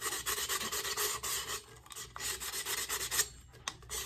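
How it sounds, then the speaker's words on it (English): Fine 220-grit sandpaper rubbing around the rim of an epoxy-coated tumbler cup gives a steady, close rasping scrub in quick back-and-forth strokes, with short pauses between passes. "I'm gonna take a little piece of sandpaper, my 220 sandpaper, just a little piece, and I'm just going to take this around the edge"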